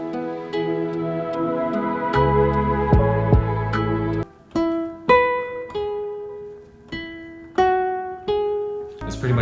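A simple plucked melody of a few notes repeats in a loop, each note ringing briefly with a relaxed lofi feel, no voices.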